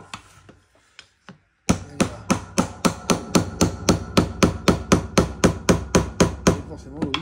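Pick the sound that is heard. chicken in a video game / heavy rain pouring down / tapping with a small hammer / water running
tapping with a small hammer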